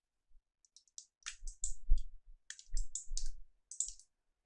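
Computer mouse clicking at a desk during video editing work: sparse, crisp, close clicks in small irregular clusters, some in quick pairs, alone with no voices.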